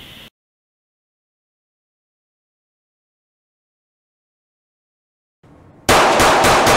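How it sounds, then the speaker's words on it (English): A Glock handgun fitted with an illegal auto switch fires full-auto. A loud, rapid burst of shots comes near the end, after a long stretch of near silence. "if you use the illegal switch, it becomes this. Now it can fire up to 30 rounds in just 2 seconds"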